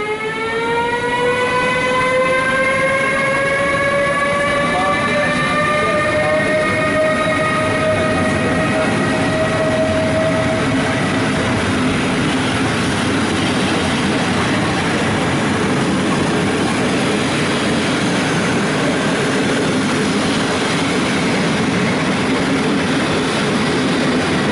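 A PKP Intercity Cargo train passes close by with a loud, continuous rumble and rail roar, a falling horn-like tonal whine fading over the first half while the wheel noise carries on throughout.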